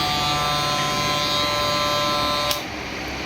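A Kemei KM-1767 electric hair clipper buzzes steadily at close range with a high, constant whine, then its tone shifts abruptly near the end.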